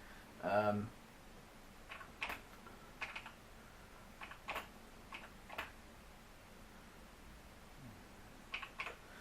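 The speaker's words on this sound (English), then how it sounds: "you can set the date and time using the numeric keys" Keys on an Apricot Portable computer keyboard are pressed in sparse, separate clicks spread across several seconds, quiet and close, with a brief electronic beep near the start.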